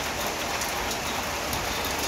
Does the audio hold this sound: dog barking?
no